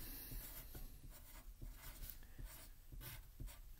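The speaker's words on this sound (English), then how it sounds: "So let's write that." Pen or pencil writing a word on a page, with a steady run of soft scratchy strokes repeating at a quick pace and no voices.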